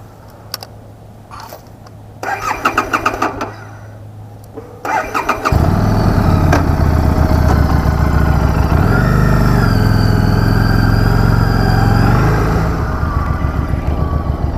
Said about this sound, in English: I cannot think of any manufacturer that produces a 500cc V-twin engine, a liquid-cooled V-twin engine.